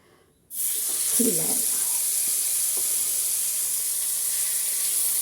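Mackerel drops into hot oil in a small pan and breaks into a sudden, loud, steady sizzle after a short quiet start. A brief voice sounds faintly beneath the continuous hiss.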